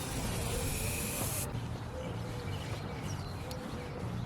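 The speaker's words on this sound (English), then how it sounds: "Use a little bit of this pre-dip prep spray." A can of pre-dip prep spray hisses onto smoked car tail lights, a loud steady spray for about a second and a half, followed by quieter ambient noise with faint squeaks.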